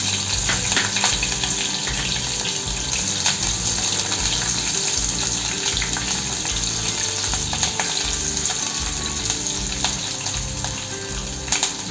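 Fenugreek seeds, chili pieces and coconut pieces fry in hot oil, giving a loud, steady, dense crackling sizzle with small pops that runs unbroken throughout and has no talk over it.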